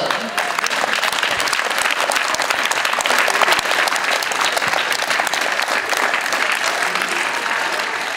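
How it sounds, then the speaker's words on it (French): A crowd at the 31st Open de Disbourg tennis finals applauds a finalist from Austria, loud and sustained dense clapping filling the whole stretch without letting up. "Merci d'applaudir Lili Tager, Autriche"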